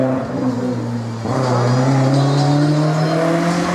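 A Renault Clio race car at a hill climb revs hard and accelerates close by, its engine note rising steadily, loud and alone.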